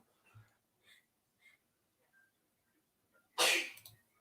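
A single loud, close sneeze bursts out after a few seconds of near silence broken only by faint small sounds from someone sitting at home during a live chat.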